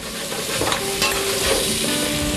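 Squash sweating gently in a pan, a soft continuous sizzle with a few brief stirring scrapes of the utensil, close up and with no voices.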